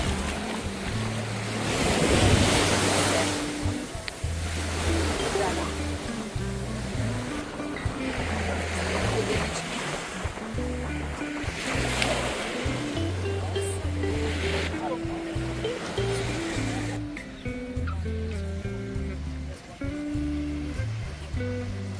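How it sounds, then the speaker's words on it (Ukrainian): Sea waves roll and wash onto the shore at Odesa in a steady roar with wind buffeting the microphone, while a low rhythmic thumping runs underneath. "чудове море."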